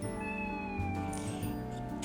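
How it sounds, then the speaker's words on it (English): A cat meows near a Dollar Tree Christmas craft table, loud and close with a drawn-out, wavering tone, and several calls follow one another with no talking. "I guess the cat wants to say hi."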